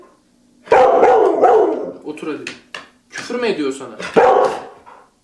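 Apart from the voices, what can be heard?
dog barking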